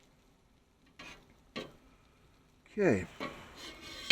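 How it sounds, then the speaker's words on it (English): A spatula stirs a breakfast scramble with melting cheese on a Weber griddle, giving two short scrapes and then a busier stretch of scraping and clatter. A voice speaks briefly in the middle. "Stir it together."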